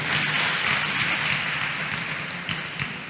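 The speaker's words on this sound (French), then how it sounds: "On l'applaudit." A crowd applauds a graduate at a diploma ceremony for a professional degree in nursing care, with continuous clapping that gradually thins out and leaves a few scattered claps near the end.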